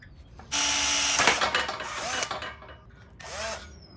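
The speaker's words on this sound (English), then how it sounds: "now I'm going to get my drill bit set out and start drilling some holes" A power drill with a worn bit bores pilot holes, whining loudly in one long burst, then a shorter second run with faint pitch sweeps as the motor speeds and slows.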